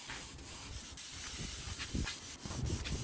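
Filler primer sprayed over bogged, filled car bodywork on custom bar work for a wagon, a steady close hiss that runs on without break, swelling and easing slightly in short pulses.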